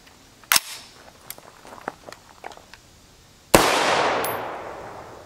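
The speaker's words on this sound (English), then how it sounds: "Up first is our 20 inch AR with the 1-9 twist barrel." A 20-inch AR rifle with a 1-9 twist barrel fires one sharp, close, loud shot of 5.56x45mm M193 55-grain FMJ ammunition, which decays with outdoor echo. Faint clicks and handling noises come just before it, after an earlier sharp crack.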